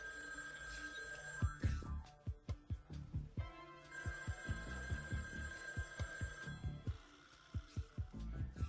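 A telephone rings in repeated trilling bursts with pauses between rings, loud and close against a quiet room with a low hum underneath.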